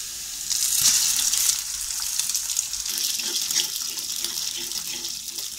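Two eggs go into a pan of onions already fried in half a cup of oil, giving a loud, continuous hiss of frying that holds steady for several seconds with no talking.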